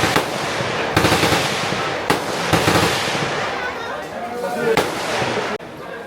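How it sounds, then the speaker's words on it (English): AK-47 rifles firing at a shooting range at the Cu Chi Tunnels, Vietnam: a handful of sharp, loud cracks spaced about a second apart, echoing over a steady crowd murmur with people talking nearby. "AK-47."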